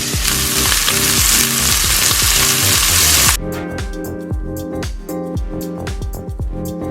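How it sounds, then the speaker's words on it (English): Pancetta bacon frying in a pan brushed with olive oil, a loud steady sizzle that drops to a quieter crackling with clattering stirs partway through. "I'm going to brush my pan with some olive oil and just fry off the bacon"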